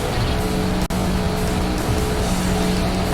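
Race car engine roar and tire squeal from the driving game Auto Modellista, a loud, dense, continuous wash of engine noise with a brief dropout near the start, no talking.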